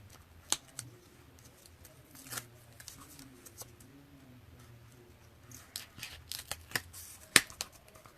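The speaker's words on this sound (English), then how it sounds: "Now I'm going to use my paper piercer to remove the backing on the tape." A paper piercer picking at the backing on tape during cardmaking, heard as scattered faint scratchy clicks and brief peeling ticks in a quiet room, growing busier toward the end.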